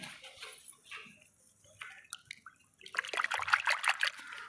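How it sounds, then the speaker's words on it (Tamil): A picked leaf is rinsed in water, with light splashes and trickles that build into a busier burst of sloshing and dripping near the end, close and fairly quiet. "இப்படி டெய்லி ஒரு இலையை பறித்து நான் இதை வந்து தண்ணியில் கழுவிப்பேங்க"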